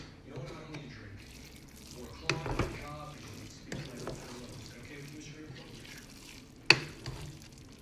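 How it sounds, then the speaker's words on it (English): Jollof rice being stirred in a pot, the spoon scraping up from the bottom in a few soft, scattered scrapes and knocks, with a sharper clack near the end, all quiet and close under a low kitchen background. "Got to stir from the bottom up."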